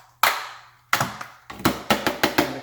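A robot vacuum filter from a Eufy RoboVac 11S Slim knocked against a surface to shake out dust: a series of sharp, close hollow taps, first spaced apart, then several quicker knocks in succession.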